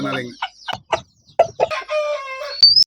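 A Peruvian Aseel game rooster crows loudly nearby, a drawn-out call toward the end, preceded by scattered short clucks and squawks.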